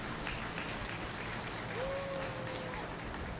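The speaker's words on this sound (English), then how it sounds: "Let's give them all a huge round of applause because they did just as well as these 4 out here today." An audience at a 4-H/FFA dairy cattle showmanship event gives a steady round of applause, dense clapping filling the whole stretch from start to finish, with a voice faintly under it.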